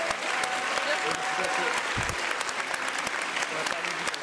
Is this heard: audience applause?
yes